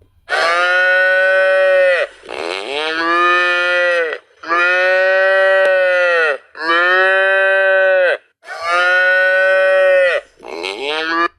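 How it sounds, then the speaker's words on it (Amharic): A newborn calf bellows loudly and close by, five long drawn-out moos separated by short pauses, with no other sound between them. "እንደ አሁን እንደተወለደ ጥጃ ይጮሃል እንደዚህ ማለት ነው።"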